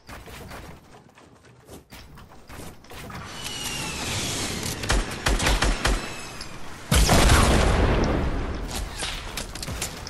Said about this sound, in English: Why are you shooting at me? I'm a solo.